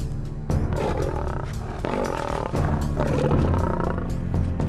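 A lion roars repeatedly, deep and loud, in a series of long rumbling calls heard close with no talk.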